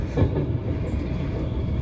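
A train rumbles past close by, a steady low roar with faint rhythmic clatter of wheels on the rails.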